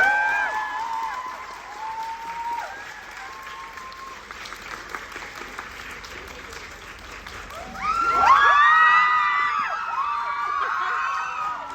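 An audience at a Bucheon International Fantastic Film Festival talk applauds and cheers to welcome director Byun Sung-hyun and actor Sol Kyung-gu. The clapping is steady and sustained, with whoops and shouts scattered through it, and it swells louder near the end.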